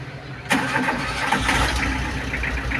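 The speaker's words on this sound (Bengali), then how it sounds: "ইঞ্জিনের সাউন্ড দেখেন" A used car's engine cranks and catches after a brief quiet moment, then settles into a steady close idle with a slight rev.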